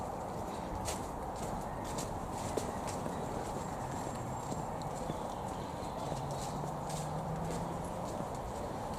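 A horse's hooves clip-clop in a steady walking rhythm near a stable along a countryside walk, with faint birdsong and soft outdoor background noise.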